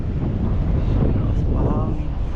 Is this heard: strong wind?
yes